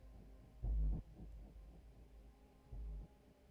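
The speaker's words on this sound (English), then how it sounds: "a fatal strike happens where you can hear your heart pounding, and this is what you're hearing" Pounding heartbeat effect in the Honkai Star Rail video game ahead of a fatal strike: two heavy, low thumps about two seconds apart over a soft hum, loud and close.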